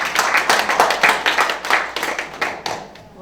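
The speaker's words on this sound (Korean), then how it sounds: "큰 박수 부탁드리겠습니다" Applause at a donation ceremony in Nam-gu, Gwangju, fills the room with dense, steady clapping from a seated audience, rolling continuously before tapering off at the end.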